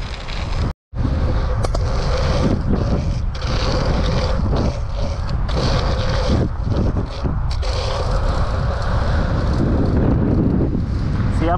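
Strong gusting wind buffeting the microphone while riding a BMX track outdoors, a continuous loud roar with rushing swells and a brief dropout near the start.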